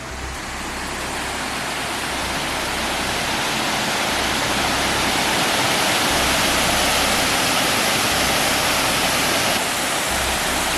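Caribou Falls on the Lake Superior North Shore roars as a loud, steady, broadband rush of falling water, heard close and continuous with no voices.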